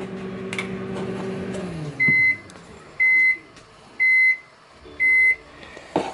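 Microwave oven humming as it winds down, then four evenly spaced loud electronic beeps about a second apart, close by with no talk.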